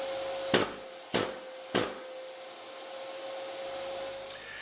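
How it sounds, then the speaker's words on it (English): A shop vac draws suction through a drilled hole in a school storeroom wall during radon testing in North Dakota. It gives a steady, moderately faint whine and hum, broken early by three sharp knocks. "The suction side of a shop vac was then connected to the hole in the storeroom labeled V1."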